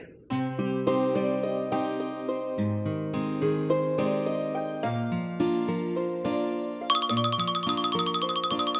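A melodic electronic ringtone plays continuously, a bright tune of stepped tones that shifts to a higher jingling pattern near the end.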